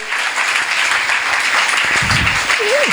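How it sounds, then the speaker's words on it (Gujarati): An audience at a motivational talk applauds to welcome the speaker, a dense steady wash of clapping throughout with a brief low murmur near the end. "જોરદાર તાળીઓથી આપણે એમનું અભિવાદન કરીએ"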